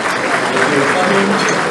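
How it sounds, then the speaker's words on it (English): Banquet audience at a freedom awards dinner clapping for an arriving representative, a short, close wash of applause with voices mixed in throughout. "we want to give them a round of applause"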